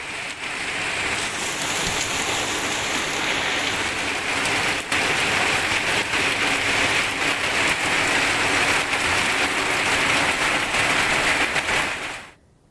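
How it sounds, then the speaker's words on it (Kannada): Heavy unseasonal rain pours down steadily in Kodagu, a loud, dense, unbroken hiss of drops on surfaces lasting the whole time before cutting off at the end. "ಈಗ ಮತ್ತೆ ಇವತ್ತು ಅರ್ಧ ಗಂಟೆಯಿಂದ ಧಾರಾಕಾರವಾಗಿ ಮಳೆ ಸುರಿತಾ ಇದೆ"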